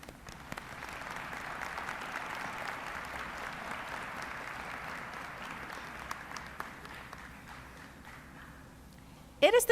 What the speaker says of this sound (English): Please join me in applause in appreciation of their dedication and support.